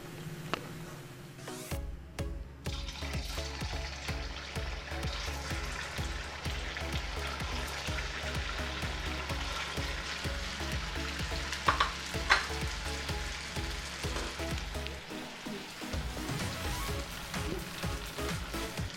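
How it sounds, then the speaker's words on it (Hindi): Samak rice vadas deep-fry in hot oil with a steady, crackling sizzle, joined by a low hum and a few sharp clinks partway through. "इसी तरीके से बाकी वड़े भी तल लेते हैं"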